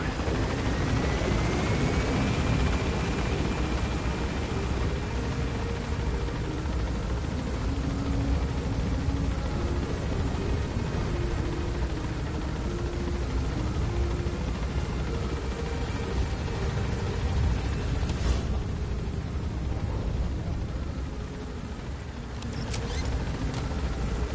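Helicopter gaining altitude in the video game Metal Gear Solid V, a continuous rotor and engine drone that stays steady and close for the whole stretch, with a brief crackle near the end and no talk.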